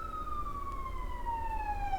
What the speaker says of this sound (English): Ironic that siren is going by right now.